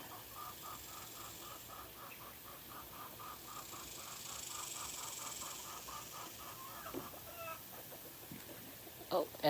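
Chickens cluck softly at a backyard coop, a quiet run of repeated clucks in a faint outdoor setting, with a brief louder flutter or call near the end.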